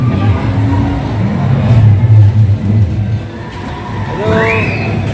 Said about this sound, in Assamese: বাইক চলে আছে ডিষ্টাৰ্ব নকৰোঁ বাৰু